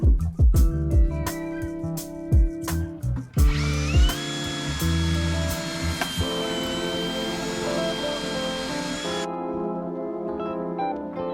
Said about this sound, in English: I really don't want to drill into this for my shelf pins